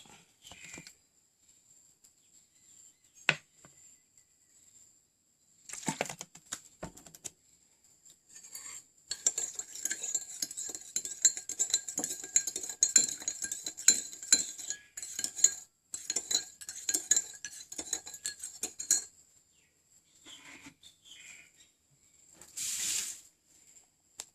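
A spoon clinks and scrapes against a container while stirring a microbial starter mixture into water, first with sparse taps, then a long stretch of quick rhythmic clinking, with a brief pause and a final swish.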